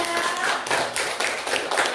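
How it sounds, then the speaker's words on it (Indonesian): Students in an Indonesian classroom clap for a group, a short close-up patter of hand claps in quick uneven bursts. "Tepuk tangan untuk kelompok 3"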